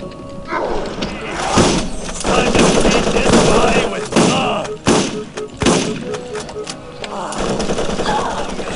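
Enemy gunfire in the video game Borderlands comes as dense, rapid bursts of shots layered with heavy thuds and impacts. The shooting is loud and close, and a player's voice breaks in at moments.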